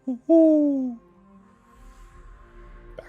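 Owl hooting in a fantasy tabletop role-playing game scene, a short pair of loud tonal hoots with falling pitch, followed by quiet low rumble.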